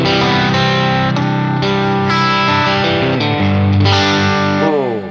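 An electric guitar runs through a distortion pedal into a UAFX Dream amp, playing sustained overdriven chords and notes that ring out loud and thick, ending with a descending slide.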